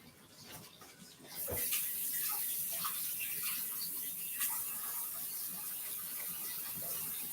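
Fresh potatoes get washed in water, a quiet, continuous wash of splashing and running water with occasional soft knocks.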